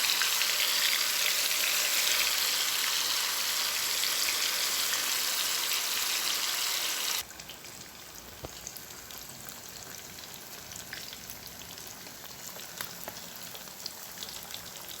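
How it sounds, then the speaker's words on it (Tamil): Fish frying in hot oil in a pan, a dense steady sizzle, loud and close for about seven seconds, then dropping abruptly to a quieter crackle with scattered pops, with no voices. "நார்மலாக ஃபிஷ் ஃப்ரை பண்ணுவோம்ல, அந்த மாதிரி ஃப்ரை பண்ணி எடுத்துக்கோங்க."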